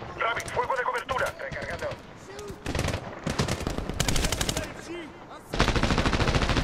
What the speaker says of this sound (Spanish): Rabbit, fuego de cobertura.